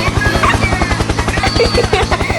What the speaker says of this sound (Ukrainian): Гелікоптер, гелікоптер!